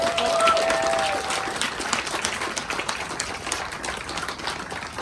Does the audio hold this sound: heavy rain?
no